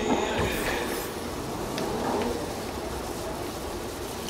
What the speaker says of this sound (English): And here comes another train.